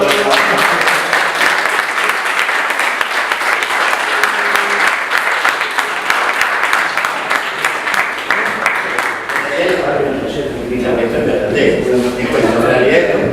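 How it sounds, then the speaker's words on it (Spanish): A crowd gives a loud, dense round of applause that runs steadily for about ten seconds, then thins as voices start talking over the fading claps. "Un aplauso para"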